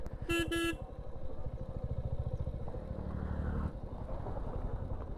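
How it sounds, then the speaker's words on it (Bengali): Two quick, loud car horn honks sound near the start over the steady drone of a motorcycle engine on a rough, potholed off-road route. "আবার কোনো গাড়ি হর্ন মারছে"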